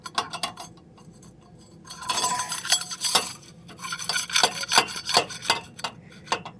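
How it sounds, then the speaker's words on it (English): Bolts going in during installation of an UltraFab Phoenix 4000 electric tongue jack, with close metallic scraping, rubbing and clinking in irregular bursts that grow busier after a quieter start. "I'm just putting these bolts in now."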